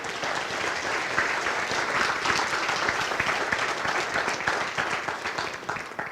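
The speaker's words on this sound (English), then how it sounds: "you need to give yourselves a round of applause" Continuous audience applause at an agency's annual address, brisk crowd clapping sustained throughout and tapering slightly at the end.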